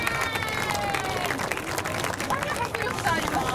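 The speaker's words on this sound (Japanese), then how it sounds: "今一度大きな拍手をお願いいたします" Audience applause and crowd noise at an outdoor Eisa night event in Okinawa City, a dense steady wash of clapping mixed with crowd babble, fairly distant and moderately loud throughout.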